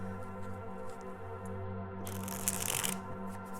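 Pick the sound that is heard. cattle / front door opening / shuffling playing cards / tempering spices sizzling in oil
shuffling playing cards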